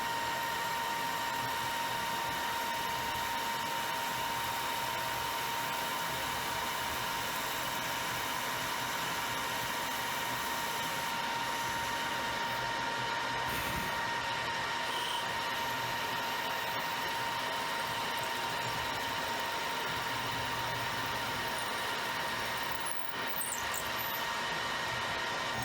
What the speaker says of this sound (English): I'm drilling quite deep because I need 2 of those parts